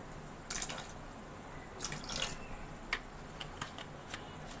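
Kewra water is poured into a cooking pot of rice on a stove, giving faint, brief liquid splashes and trickles in a quiet kitchen with no talking.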